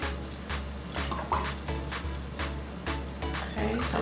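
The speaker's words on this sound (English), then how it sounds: "So I'm going to go ahead and fill this up to the 4-cup line" Water pouring into a measuring cup, filled to the four-cup line as the base of a berry juice punch, a steady splashing stream broken by repeated short bursts, close and fairly loud without talk.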